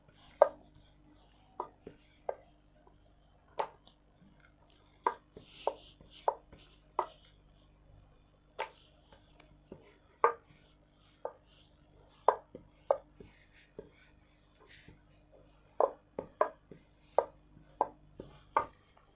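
A rolling pin works papri dough flat without oil, giving soft irregular knocks and taps on the board, spaced a second or so apart, against a quiet room.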